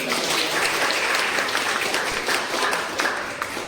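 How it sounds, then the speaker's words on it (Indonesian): An audience claps at a talk on self-compassion, a dense continuous burst of applause from a fairly close crowd that holds steady and thins slightly near the end. "Oke, boleh kasih tepuk tangan lagi dong."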